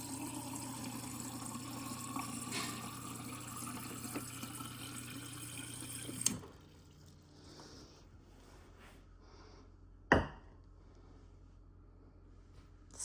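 Water pours in a steady, fairly loud stream for about six seconds, then cuts off abruptly, leaving a quiet room broken by one sharp clunk a few seconds later.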